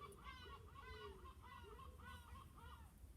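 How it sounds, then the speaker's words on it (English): Seagulls call in a repeated series of squawking cries over a low background rumble, faint and distant. "with those seagulls, it sounds like I'm actually living near the ocean"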